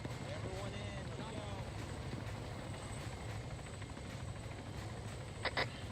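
A military helicopter in ArmA III hums with a steady rotor and engine drone, with faint talk at times and a brief sharp blip near the end.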